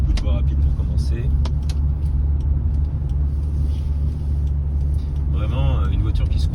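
Toyota Supra 3.0 turbo MK3 cruising on an expressway, steady low engine and road rumble from inside the cabin, with someone talking over it.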